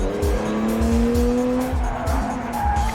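A Nissan Skyline with four-wheel steering and all-wheel drive slides under power, tires squealing in long, wavering screeches over a loud, steady engine roar, with repeated low thumps throughout.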